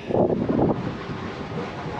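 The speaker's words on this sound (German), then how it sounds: "Der Wind treibt uns raus und wir kommen hier an unserer Klampe vorbei." Wind gusts across the microphone as a boat pulls away from a marina berth, a steady rushing roar with some low rumble and water wash underneath.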